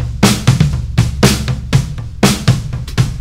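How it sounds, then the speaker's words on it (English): Acoustic drum kit from a Drum Kit Designer drummer track with the mic leak channel soloed: a steady groove of roomy, bleeding kick, snare and cymbal hits, loud and washy, with no voices. "the sound of the drums leaking onto each other's microphones"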